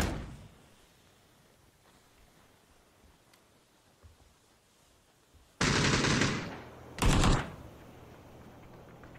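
P90 submachine gun fire in a shooter video game: after a long quiet stretch of low background noise, two loud bursts of rapid gunfire, the first longer, the second short, with no voices.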